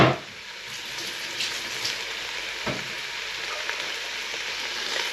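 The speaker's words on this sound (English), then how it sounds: "I'm just going to add in the meat now." Pork meat hitting a hot pan with onions for a pork and cider stew, a loud initial burst settling into a continuous close sizzle with a single knock midway.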